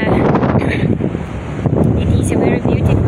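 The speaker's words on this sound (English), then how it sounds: "a little windy" Wind gusts on a bright outdoor day, buffeting the microphone with a loud, continuous rumble as a voice talks over it.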